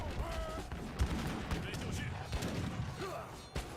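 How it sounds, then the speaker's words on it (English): Cannons fire repeatedly in a video game battle, a busy stream of overlapping booms and cracks mixed with game effects, with a voice talking faintly underneath. "Shoot some fire cannons."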